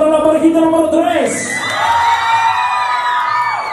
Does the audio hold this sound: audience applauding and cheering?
yes